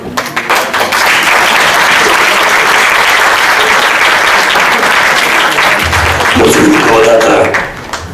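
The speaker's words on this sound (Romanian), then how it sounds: "Aplauze!" Loud, sustained audience applause at the FESTIN gala in Caracal, a thick wash of clapping that swells after a moment, holds steady, and fades near the end as a voice speaks over it.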